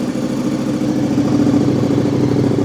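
Motorcycle engine from Cubo Moto in a garage, idling with a deep, aggressive, menacing Ducati-like throb, a steady close rumble with slight revving and no talk.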